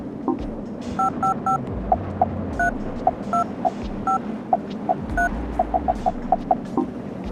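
Telephone keypad tones from Silent Hill: Shattered Memories, a long run of separate dialing beeps at an uneven pace, some in quick clusters, loud and clear over a low steady hum, with no talking.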